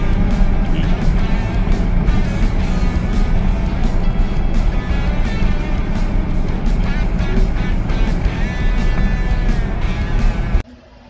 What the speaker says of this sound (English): So we are now finally driving the Jag down to Paoli.